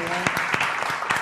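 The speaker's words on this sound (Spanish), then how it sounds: "Vamos a darle un aplauso, ¿no?" An audience at a book festival applauds, a brief burst of clapping from a room of listeners.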